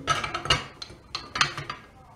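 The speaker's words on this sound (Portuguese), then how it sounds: "Vou colocar aqui a panela no fogão, vou acender o lume" A metal pot is set on a stove in a kitchen while candle-making, giving a series of close clinks and knocks of metal on metal, some sharp and some softer, with no speech.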